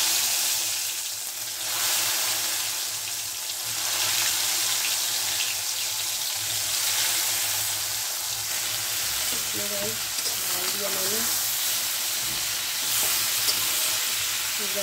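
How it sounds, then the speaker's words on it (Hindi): Okra dropped into hot oil with cumin and fenugreek seeds, frying with a steady loud sizzle and occasional stirring, close up and without speech. "देखिए, तेल गर्म हो गया है, मेरा जीरा और मेथी है डाल रही हूँ। देखिए, एक एक करके भिंडी से डालेंगे।"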